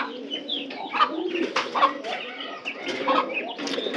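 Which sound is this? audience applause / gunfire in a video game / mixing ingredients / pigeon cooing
pigeon cooing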